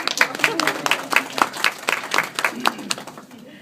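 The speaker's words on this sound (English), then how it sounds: "That's right, you can clap." An indoor audience at a career summit claps in a brief burst of applause, the sharp claps close and steady before thinning out toward the end.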